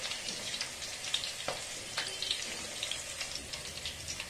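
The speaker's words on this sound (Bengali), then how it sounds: "পেঁয়াজটা দিয়ে দিলাম, পেঁয়াজটা একটু ফ্রাই হলে তারপর আমি এই ভেজিটেবলসগুলো দিয়ে দেবো।" Onion fries in a pan for vegetable mixed fried rice, a soft steady sizzle with crackling pops and occasional stirring clicks, close by and with no talk over it.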